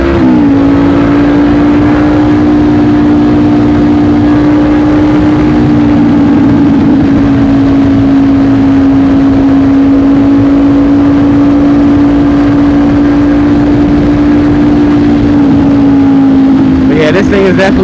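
A 2020 Honda CBR500R motorcycle with an aftermarket exhaust cruises at a steady pace, giving a loud, constant droning hum under heavy wind rush, with only slight changes in pitch throughout.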